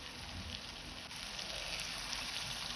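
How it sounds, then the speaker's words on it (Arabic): Lamb meat fries in a pan over a flame as the first step of a Moroccan tagine, producing a steady, soft, broad sizzle with no voices. "وخليتها كتقلى مزيان"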